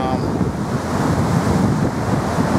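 Rough ocean waves at Fort Lauderdale beach, a loud continuous roar of surf mixed with heavy wind buffeting the microphone, no distinct breaks between waves.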